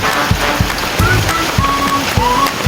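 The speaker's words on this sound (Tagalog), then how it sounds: "Malakas ang ulan dito sa amin sa Rizal" Heavy rain pours steadily and loudly in Rizal, Philippines, a dense continuous hiss with scattered thumps and faint tones underneath.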